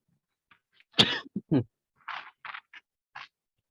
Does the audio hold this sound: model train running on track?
no